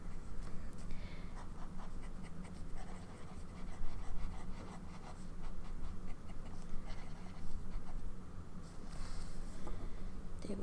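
A fountain pen with a fine nib scratches across paper, writing in Noodler's Antifeather Blue ink, a faint, continuous soft scritching with small irregular strokes over a quiet room.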